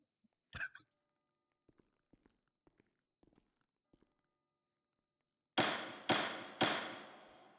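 A person sneezes once, sharply and close to the microphone, during a roleplay game stream. Soft scattered clicks follow, then three loud thumps that each die away.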